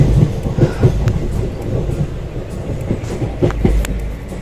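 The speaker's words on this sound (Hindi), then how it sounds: "वो ट्रेन निकल चुकी है हजारीबाग रोड से" Inside the Kosi Super Express passenger train as it runs on after leaving Hazaribagh Road, a steady low rumble rolls on with rhythmic clattering and knocks from the carriage, loud and continuous, with no one speaking.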